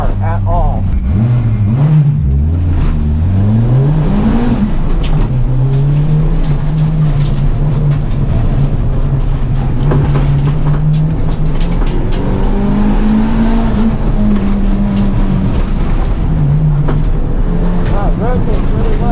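A turbocharged Ford Focus with a Zetec engine runs an autocross course, its engine loud and close, revving up and down through gear changes, with someone talking over it.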